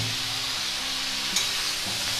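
Cabbage being stirred in a frying pan with a splash of water, a steady close hiss of sizzling under soft scraping strokes, with one brief sharper clink midway.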